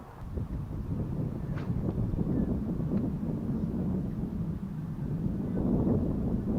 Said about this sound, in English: That wind picked up.